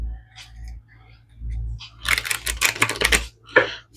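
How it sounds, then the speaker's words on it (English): A deck of tarot cards being shuffled and cut, giving a close, dry run of riffling clicks and taps in quick bursts, with quieter rustling beforehand. "Spirit want 2 shuffles and a cut with this."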